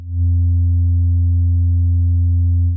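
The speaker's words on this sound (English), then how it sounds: "It starts with the sine tone, which can be shaped with the wave shaping knob" A steady, loud, low sine-wave tone from a Buchla Music Easel's complex oscillator holds unchanging, fading in briefly at the start and sustaining evenly to the end.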